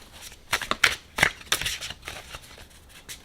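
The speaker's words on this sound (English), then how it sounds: "So let's shuffle first." A Runic Tarot card deck is shuffled close up, with several quick crisp riffles and rustles of the cards in an irregular rhythm.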